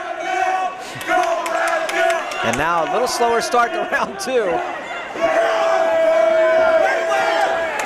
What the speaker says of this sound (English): This crowd pulling for Rabbit.